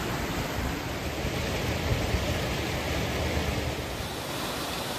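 Water of a brook rushing steadily over rocks near Black Clough waterfall, a continuous loud broadband wash with no pauses, close to the listener.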